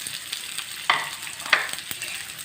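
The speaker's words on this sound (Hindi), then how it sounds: "मैं बना रही हूँ फ्राई भिंडियाँ" Okra frying in a pan makes a quiet, steady sizzle, with a few sharper crackles and spatters over about two seconds and no talking.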